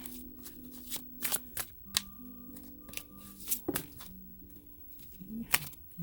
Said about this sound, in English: I'm going to have to scooch all the cards.